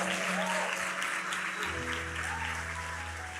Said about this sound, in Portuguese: Você pode aplaudir o Senhor pela vida dele?